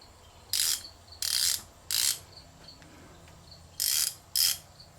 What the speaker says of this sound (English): I have a thing about noisy ratchets.